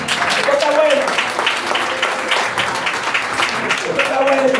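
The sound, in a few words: audience applause for the king in church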